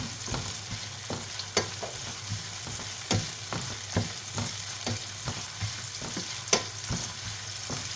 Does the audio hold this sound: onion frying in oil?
yes